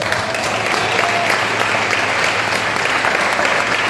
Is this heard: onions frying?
no